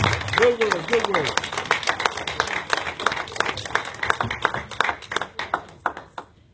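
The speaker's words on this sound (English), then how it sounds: "Give the Lord a hand clap of praise." Church congregation clapping hands in praise during a service, a burst of rapid, uneven applause that slowly thins out, with a voice speaking briefly near the start.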